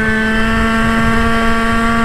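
Goped GTR motorized scooter motor running at a steady, loud drone with strong even hum tones and some wind buffeting, continuous for the whole short stretch with no talking.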